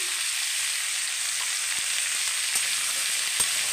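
Pumpkin pieces fry with turmeric in a pan, giving a constant soft hiss with a few faint clicks of stirring, and no talking.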